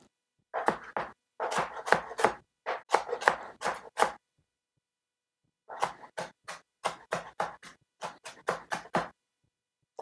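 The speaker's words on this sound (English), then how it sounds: "We chop some parsley." A knife chopping fresh parsley on a cutting board, quick bursts of crisp, close taps in rapid runs, separated by a short pause midway, with no voices.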